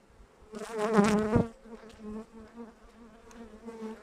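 Honeybees buzz in a dense, droning swell at an opened hive during a brood frame inspection, peaking loudly for about a second, then settling into a steadier, quieter hum.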